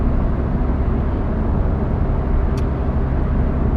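A 2002 Ford Focus 1.8 TDDi 90 diesel drones steadily while driving, a loud, vibrating low engine rumble with constant road noise and one brief high tick partway through.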